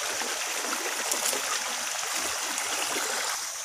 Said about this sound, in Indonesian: Jadi ada pertemuan dua sungai di sini teman-teman.